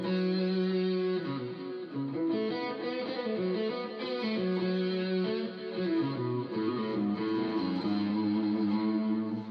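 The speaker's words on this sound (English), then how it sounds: "I believe it's just reverb and delay, and it's the new Lumos plugin" Electric guitar runs through a reverb and delay plugin, the Polychrome DSP Lumos, playing a continuous melodic line whose notes smear into a washy, echoing tail at steady loudness, with no voices.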